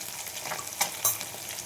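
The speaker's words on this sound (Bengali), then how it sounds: "একটু মাছগুলো ভাজা হয়ে গেছে, আমি দিয়ে দিলাম কালো জিরে" Pabda fish frying in a pan with black cumin seeds: a faint, steady sizzle broken by two sharp crackles, with no talk.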